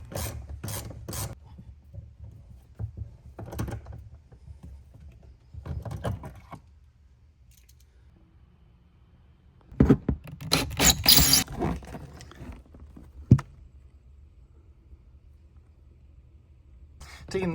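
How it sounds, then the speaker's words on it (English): Screws being backed out of a Jeep Cherokee rear cargo panel with a small 8 mm socket, giving faint scraping, rasping bursts in short irregular spells with pauses between, under some quiet talk. "Taking these screws out, by the way,"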